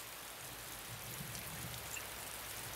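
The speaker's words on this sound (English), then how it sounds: "The rains began that day, a torrential downpour of the monsoon season" Rain falling as an audiobook sound effect, a soft, even hiss of steady drops with no talk and no other sounds.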